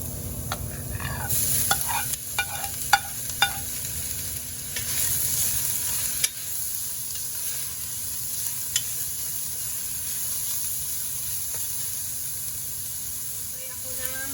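Boiled, shredded chicken breast sizzles in a pot for Filipino lugaw, a steady frying hiss broken by several clicks and scrapes of a utensil stirring early on, with a little faint talk.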